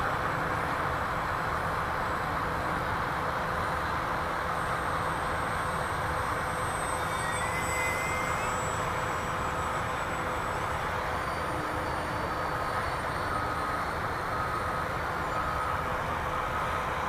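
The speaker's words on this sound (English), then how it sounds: "There's our obligatory wheels up pass." An FMS SuperEZ V2 model airplane makes a wheels-up pass, its steady electric whine carrying faintly from a distance over a constant outdoor background hum, with no talk.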